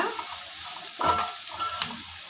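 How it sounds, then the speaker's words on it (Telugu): Onions and bitter gourd pieces are stir-fried in a pan, with a soft continuous sizzle and a couple of louder spatula scrapes as they are turned. "మధ్య మధ్యలో కలుపుకుంటా మనం వేయించుకోవాలండి ఆనియన్స్ కాకరయ్య ముక్కలు"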